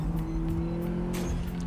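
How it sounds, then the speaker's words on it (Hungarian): Mazda MX-5 Turbo roadster engine drones steadily at close range, with faint hissy bursts from the turbo over the constant hum. "Azért a turbót ide hallani."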